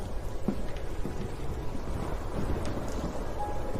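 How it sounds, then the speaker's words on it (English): A sea storm rolls through with steady rain hissing over a deep, continuous rumble of thunder, loud and enveloping throughout with no voices. "a storm rolled in from the sea"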